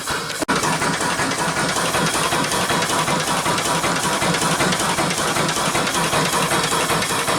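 A steady, loud mechanical engine drone with a hissing rumble runs throughout during boiler firing, broken by a brief click near the start.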